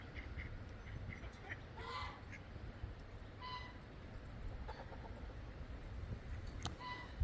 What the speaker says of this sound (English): Silly birds everywhere.